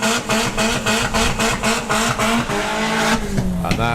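A Volkswagen Passat launches hard off the line at a drag race, its engine revving through a loud, pulsing series of rising bursts and gear changes, with a commentator's voice over the PA mixed under the roar.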